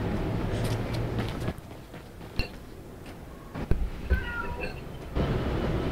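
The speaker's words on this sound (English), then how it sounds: "Shout out to the cat. Hello, what are you moaning about?" A cat meows several times in short, moderately loud calls against steady background game music and ambient noise.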